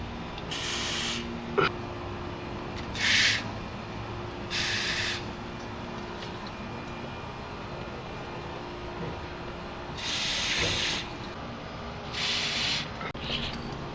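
Short bursts of penetrating spray hiss in five or six separate blasts onto the sway bar bolts of a 1999–2004 Jeep Grand Cherokee, close and moderately loud, with pauses between them.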